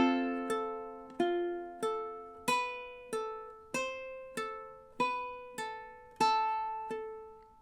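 Hawaiian ukulele playing measures 21 and 22 of "Loke Lani," about a dozen bright plucked chords and notes in an even triple rhythm, each ringing and decaying before the next, close and clear with no talk.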